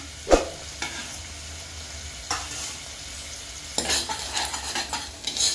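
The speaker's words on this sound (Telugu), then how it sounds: "సో మంచిగా ఫ్రై అవ్వాలి. ఉల్లిపాయలు గోల్డెన్ రంగు రావాలి." Onions fry in a pan for Telangana-style mutton gravy, a soft steady sizzle broken by a few sharp spatula scrapes and stirring clatters, close by and with no speech.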